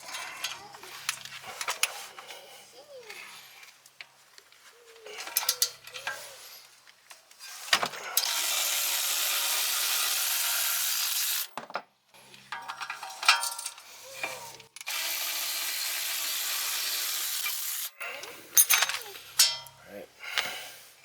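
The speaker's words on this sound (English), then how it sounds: "We're going to take off the 2 bolts in the back." A hand ratchet working rear brake caliper bolts on a 2002 Ford Mustang, with bursts of rapid clicking under a steady hiss. Metal clinks and tool handling come between them, close by.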